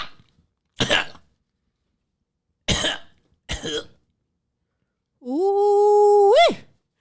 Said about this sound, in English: I think I need to pause for the cause and clear my throat.